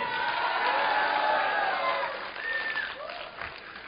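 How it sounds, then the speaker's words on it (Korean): Studio audience clapping and cheering loudly as a show of support in a Korean talk-show vote, a steady sustained roar with shouts rising over it, some voices calling out near the end. "김나문이 좋다. 박수 한번 쳐보시죠."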